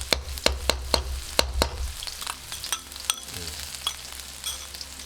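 Garlic and fresh chili stir-fried in a wok for a pork dish, with sharp spatula scrapes and clacks against the metal in a quick rhythm over a steady close sizzle.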